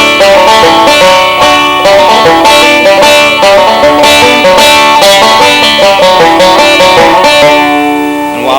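Banjo picking with a pinch of the first and second strings together while hammering on, bright twangy paired notes repeating in a steady rolling rhythm, loud and up close, no voices.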